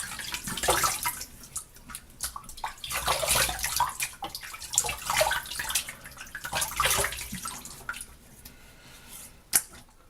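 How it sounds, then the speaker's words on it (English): Tap water runs and splashes as hands wet a face before shaving, a steady close hiss with uneven bursts and a sharp small splash near the end. "Alright, gonna wet my face."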